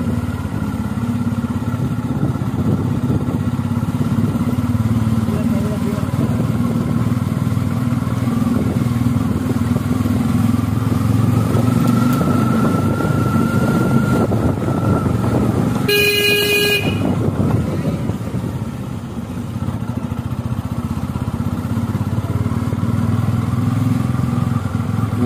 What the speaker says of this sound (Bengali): স্কুটার চালিয়ে এবার বাইক, কিন্তু গাড়ি খুব স্মুথ মনে হচ্ছে।